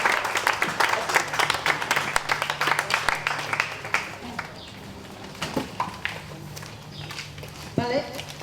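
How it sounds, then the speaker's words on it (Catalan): Applause at a tribute gathering honoring a woman named Consol, a burst of clapping that is loud at first, then thins into scattered claps and fades, with a few stray sounds near the end. "Un fort aplaudiment perquè realment és el que es mereix"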